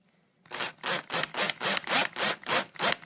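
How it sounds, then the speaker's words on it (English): A drill bores a pilot hole into wood for a homemade jewelry holder, giving about eight loud, regular rasping strokes in a steady rhythm after a moment of quiet. "Okay, so we are just going to drill."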